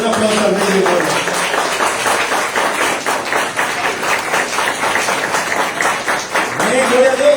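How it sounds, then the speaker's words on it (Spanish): Church congregation applauding during a sermon, loud steady clapping with rhythmic pulses throughout and a voice rising above it at the start and end. "Den un aplauso al Rey de Gloria"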